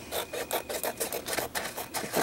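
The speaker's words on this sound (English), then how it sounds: "I'm just going to go ahead and trim this down" Paper being trimmed down for an altered book, a quiet, steady series of scraping, rasping strokes repeating in a regular rhythm at close range.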